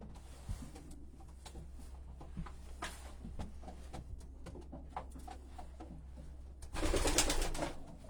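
A racing pigeon coos softly in a loft, low repeated calls over a steady hum, with a brief louder rustling burst near the end.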